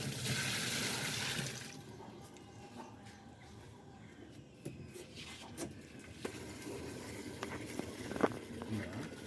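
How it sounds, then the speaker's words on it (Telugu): Water rushes and splashes into a Samsung semi-automatic washing machine during a drain check, loud and steady for about two seconds before settling into a quieter trickle with occasional small clanks. "ఇప్పుడు వాటర్ పోసి మనం ఆ డ్రైన్ సెక్షన్ కూడా నీట్గా చెక్ చేసేయాలి."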